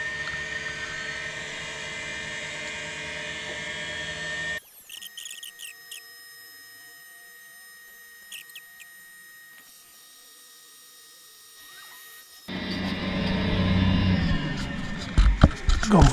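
Eberspacher D9W diesel heater attempting ignition after a second failed start: a steady mechanical whir and hum, then a quiet spell with faint ticking, then a louder, rougher roar building near the end.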